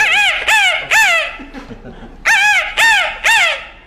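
A forest guard from Tadoba jungle mimics a jungle fowl, giving loud, near, harsh rising calls in two groups of three, with a quiet murmur between them.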